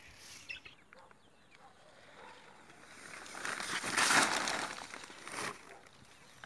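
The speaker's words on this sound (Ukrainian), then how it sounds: "стільки в мене птиці, стільки в хозяйстві курей" Farmyard chickens cluck in soft, scattered calls that swell louder midway through, with a faint background hiss.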